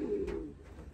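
Racing pigeon cooing close by, a low throaty burr that rises once and trails off within a second, with soft background rumble and no voices.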